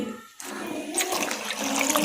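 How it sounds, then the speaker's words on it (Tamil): Tap water runs while palak spinach leaves are washed at a sink. A short quiet pause gives way to a strong, continuous rush of water with splashing texture close by. "கீரையை கழுவி எடுத்துக்கிறேங்க"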